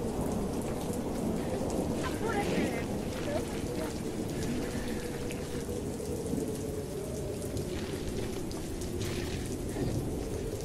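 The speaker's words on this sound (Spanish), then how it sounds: "Aquí llueve fuerte." Heavy rain pours steadily on a mountain pass at dawn while thunder rumbles through the downpour, a dense, constant wash of sound from start to finish.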